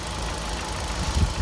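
A Hyundai i20 with an 85-horsepower 1.2 petrol engine idles with the bonnet open, giving a steady, close, low rumble with a slight knock and no talk.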